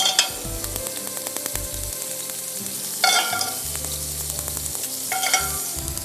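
Fish fries in a frying pan with a continuous close sizzle, broken by bursts of louder spattering and the clink and scrape of a utensil against the pan.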